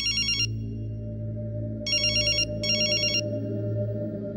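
A telephone rings unanswered in three bursts of a bright electronic trill, one short ring, then two more after a pause, over a steady low background hum.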